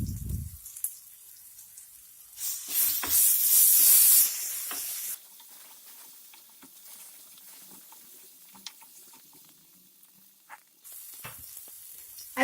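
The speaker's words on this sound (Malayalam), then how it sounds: "ഇനി കറിവേപ്പില ചേർത്ത് കൊടുക്കാം." Curry leaves hit hot oil for Kerala village-style rasam, setting off a sudden loud crackling sizzle that peaks for a couple of seconds and then settles into a faint hiss, with a brief second burst near the end.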